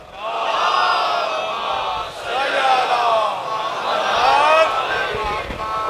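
A large congregation at a Muharram majlis in Karachi chants salawat in loud unison, a swelling and falling wave of massed voices that fills the space for several seconds.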